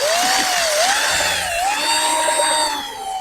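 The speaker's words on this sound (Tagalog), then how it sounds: "patunogin mo nga yung barena ko dyan" A power drill whines steadily and loudly, its pitch dipping and rising as it spins, with no voices.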